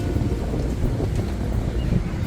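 Steady wind buffeting the microphone, a constant low roar with no breaks.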